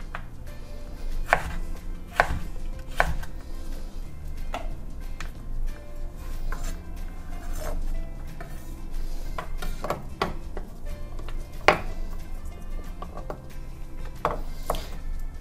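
A knife chops food into julienne strips on a cutting board: quick, crisp, irregular taps in short bursts, close and fairly quiet, with no talking.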